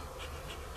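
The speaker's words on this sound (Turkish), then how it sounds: "Şu arılara bakın." Bees buzzing around an open beehive, a dense close swarm hum with a brief pulsing whine rising and fading, heard alone without talk.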